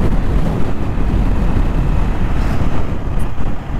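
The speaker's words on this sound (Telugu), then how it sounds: "గాలి వేస్తుంది, గాలి తోసేసేటట్టు ఉంది." Strong wind roars and buffets the microphone constantly while riding a Pulsar 180 motorcycle, a loud, unbroken low rush with no talk.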